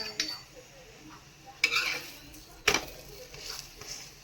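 An onion paratha cooks on a pan with a soft sizzle underneath, broken by a few sharp metallic clinks and scrapes of a utensil against the pan, close and fairly quiet.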